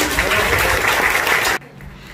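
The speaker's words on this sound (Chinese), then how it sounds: "所以给今天的阵容一个掌声好吗？" Audience applause at an anti-drug education workshop's opening event: a dense, steady clatter of clapping for about a second and a half that cuts off abruptly, leaving quiet room tone.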